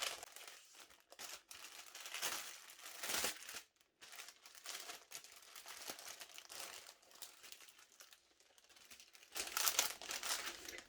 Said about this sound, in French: ça va faire beaucoup de bruit vu que tout est en papier comme ça